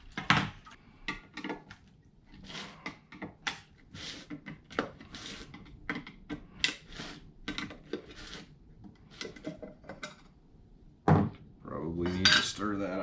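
A stick or utensil scrapes and knocks inside a can of wood stain in irregular clattering strokes, close and fairly loud, with a brief voice near the end.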